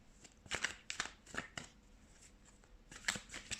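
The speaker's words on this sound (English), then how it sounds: "let's shuffle some tarot cards." Tarot cards are shuffled in several quick, crisp riffling bursts separated by short pauses. The sound is close and quiet, with no one speaking.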